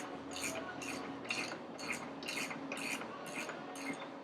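A front wheel axle nut being tightened with a ratchet, eight or so evenly spaced clicking strokes, close and fairly loud, with no talking.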